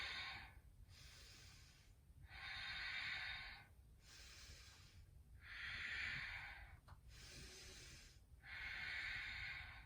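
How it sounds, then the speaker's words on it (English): Ujjayi yoga breathing held in a goddess squat: five slow, even breath cycles, each a long, airy, ocean-like hiss rising and falling in a steady rhythm, close and clear with no talking. "So 5 Ujjayi breaths here."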